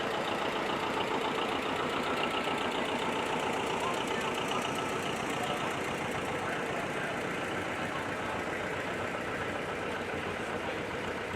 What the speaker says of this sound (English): This one's from a similar line as the John Deere Diesel 720